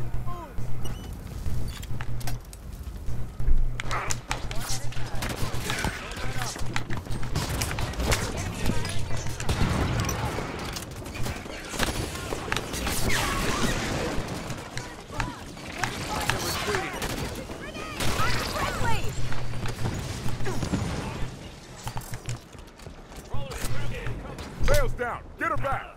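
Firefight gunfire in Halo 5 on Legendary difficulty, dense bursts and impacts running throughout under heavy game noise, with voices talking over the shooting.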